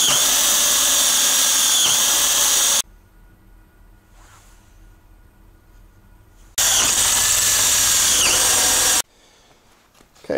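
A power drill bores bolt holes through salvaged steel pipe for a solar array frame, two loud sustained whining runs of a few seconds each, separated by quiet pauses with faint handling noise.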